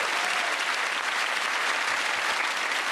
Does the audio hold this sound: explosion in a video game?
no